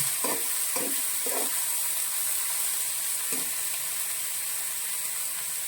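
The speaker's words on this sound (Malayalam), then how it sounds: "അരപ്പ് ചേർത്ത് നന്നായിട്ട് ഇളക്കി യോജിപ്പിക്കണം" Banana flower thoran being stirred with ground coconut paste in a pan, a few soft scraping strokes near the start and one more later over a steady low hiss of the pan.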